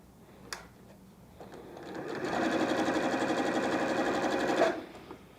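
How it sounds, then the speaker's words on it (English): A sewing machine stitches light and dark quilt fabric pieces together without pins for a Disappearing 4-patch block, giving a close, steady mechanical whir that builds in, runs continuously for a few seconds, then stops. "I'm sewing a light to a dark that's underneath, so I know I'm good to go here."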